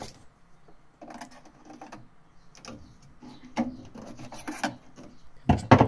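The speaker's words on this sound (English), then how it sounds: "I'm going to use a screwdriver just to hold up the clip whilst I pull the trap forward to" A screwdriver prying up a plastic clip while the condensate trap is pulled forward out of a Worcester boiler, with faint scraping, small clicks and rubbing, ending in a louder clunk of plastic parts.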